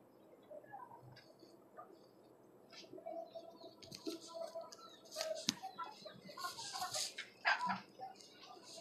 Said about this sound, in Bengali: আর এখানে আছে আমার আরেকটা টাইগার মোরগ, 5 মাস বয়স ওর।